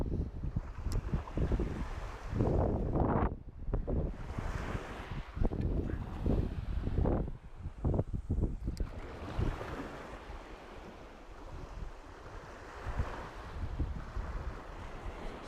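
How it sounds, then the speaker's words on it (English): A strong southwest wind of about 18 mph blows across a steeply shelving UK shingle beach during bass lure fishing. It buffets the microphone in loud, rough gusts over a steady wash of surf, and no one speaks. "Said on the internet 18-mile-an-hour wind over my shoulder, southwest."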